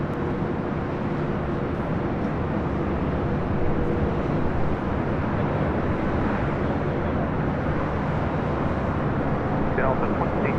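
A Delta Airlines Boeing 737-800 inbound from Seattle arriving at LAX, heard as a sustained, heavy low engine roar that holds steady throughout, with voices audible in the background.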